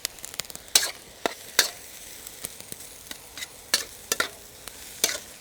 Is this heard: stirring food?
yes